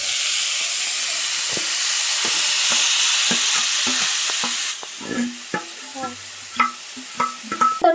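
Ivy gourd (tindora) pieces fry in a pan with a loud, steady sizzle, then the hiss drops away and spoon-stirring clinks and scrapes follow at close range.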